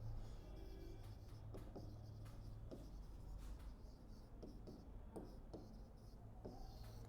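Chalk or marker strokes scratch across a classroom board during a signals and systems lecture, in short, repeated scraping bursts over a steady room hum.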